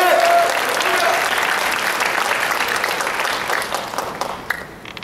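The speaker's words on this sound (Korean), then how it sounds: "올라오실 때 하늘의 박수 높게 한번 해주시기 바랍니다" A church congregation breaks into loud, sustained applause as a pastor comes up to the pulpit, a dense wash of many hands that tapers off toward the end.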